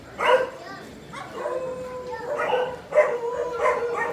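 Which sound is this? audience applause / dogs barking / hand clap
dogs barking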